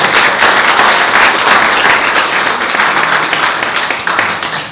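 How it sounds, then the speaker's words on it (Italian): Audience applause for an award at an architecture event, dense steady clapping from a full room that stays loud for the whole stretch and fades slightly at the end. "comunque facciamo un applauso"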